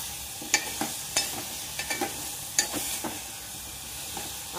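Drumstick pods sautéing in a pan for a quick Marathi-style bhaji, with a steady sizzle under repeated light scraping strokes of a stirring spoon, close and without speech.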